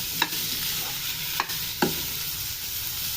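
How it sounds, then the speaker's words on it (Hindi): Minced beef frying in oil in a pan, a steady even sizzle broken by three sharp scrapes or taps of a spoon against the pan. "कीमे को हम इसमें थोड़ा सा भून लेंगे ताकि इसका कच्चापन चला जाए"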